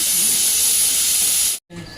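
Liver frying in hot oil makes a loud, close, continuous hiss and sizzle, in a Telangana-style kitchen. The sound cuts out briefly near the end, then resumes more quietly.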